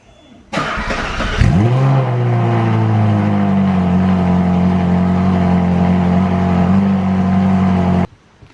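A Novitec-tuned Ferrari 458 Italia fires up with a sharp starter catch and loud bark, then settles into a steady, close, throaty idle that holds for several seconds before cutting off abruptly.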